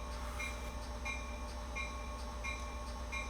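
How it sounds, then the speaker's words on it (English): A repeating locomotive bell rings steadily from a cab in Train Sim World 2 on the Peninsula Corridor line, evenly spaced strikes about every half second over a constant engine and rail rumble, with no talk. "we now appear to have some bellage going on, and I can't stop the bell."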